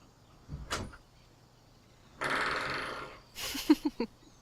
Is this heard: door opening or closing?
yes